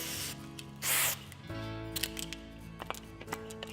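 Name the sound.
adhesive cleaner spray can spraying foam off a glue gun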